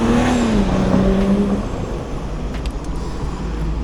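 A BMW car pulls away on a city street, its engine note rising then fading over steady traffic noise, fairly close at first and receding into the background roar.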